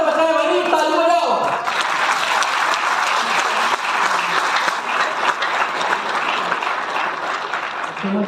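An audience applauds in a sustained burst of dense clapping that follows a moment of someone speaking, continuing steadily and loudly until the end.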